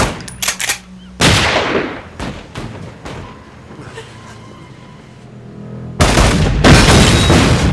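Gunfire in a film scene comes as sharp bursts of shots, a quieter stretch of scattered cracks and booms, then a loud sustained volley near the end, close and dense, with no speech.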